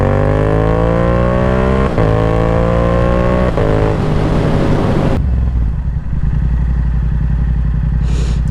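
Yamaha R7 motorcycle accelerating hard on a launch run, engine revving up through rising pitch with quick gear shifts, loud and close, settling into a steadier drone near the end.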